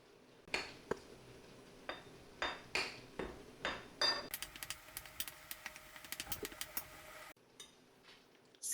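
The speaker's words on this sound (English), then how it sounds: "Now we take the flour and we mix it with baking powder." Flour is mixed with baking powder in a bowl. A utensil scrapes and clinks close up in a quick, irregular rhythm of sharp taps that picks up into fast repeated stirring clatter, then stops.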